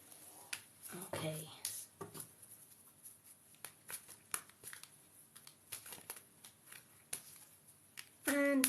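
A deck of unicorn oracle cards is shuffled by hand with quick, irregular papery flicks and rustles, some louder bursts, while someone talks over them.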